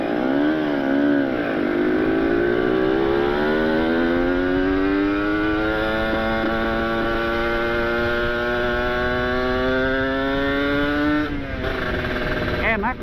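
Kawasaki Ninja RR two-stroke motorcycle fitted with an ABRT20 exhaust, idling and revving in a steady buzzing drone with a rising pitch sweep, close and continuous throughout.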